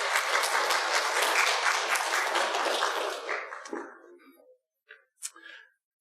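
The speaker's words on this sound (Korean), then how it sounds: "박수 보냈으면 좋겠습니다" A church congregation claps together in loud, dense applause that lasts about three seconds. It tapers into scattered claps, then a few last isolated hand claps.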